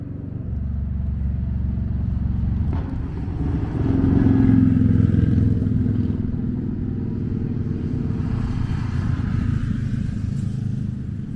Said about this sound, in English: Comes a motorcycle.